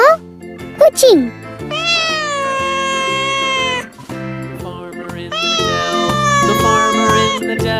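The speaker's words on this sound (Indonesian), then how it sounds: "Wow, kucing." A cat meows in a loud, close, drawn-out, tonal cry, with several long calls and short squeaks in the middle.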